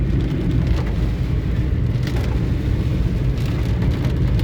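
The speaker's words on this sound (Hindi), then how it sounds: "आज बहुत ही तेज़ बारिश हो रही है" Steady heavy rain on the road between Muzaffarnagar and Meerut roars as a dense, continuous hiss, with a low rumble like passing traffic underneath.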